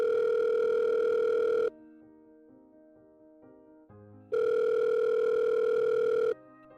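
A telephone rings on an incoming call from a school teacher: two long, loud electronic ring tones separated by a pause of quieter tonal sounds, with no talking.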